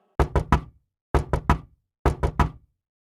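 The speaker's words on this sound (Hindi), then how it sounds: "जब है गौर से सुनता है तो उसे गेट बजाने की आवाज आती है" Knocking on a gate in an animated Hindi cartoon: three separate bursts of three quick, sharp knocks each, loud and close, with silence between the bursts.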